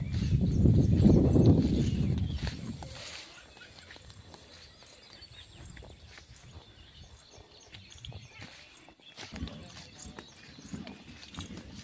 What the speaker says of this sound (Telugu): పక్కనే ఒక గుర్రం.